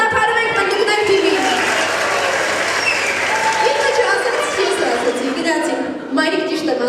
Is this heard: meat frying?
no